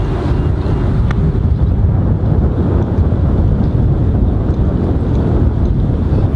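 Strong wind buffets the microphone on a golf course during play, a loud, continuous low rumble with steady gusting roar and no speech.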